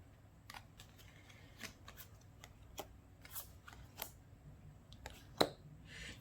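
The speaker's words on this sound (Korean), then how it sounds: "오라클 카드 한번 뽑아서 한 주 한번 보겠습니다" Oracle cards being shuffled and drawn by hand, quiet papery flicks and slides in an irregular rhythm, with one sharper snap near the end, close and soft with no talk.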